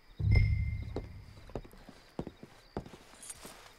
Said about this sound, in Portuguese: Meu cavalinho apareceu magicamente aqui.